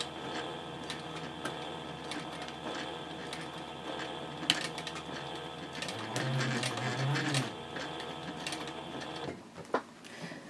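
Sewing machine back stitching a handbag seam, a steady close mechanical whir and needle ticking that briefly deepens and strains before stopping near the end, followed by a couple of faint clicks.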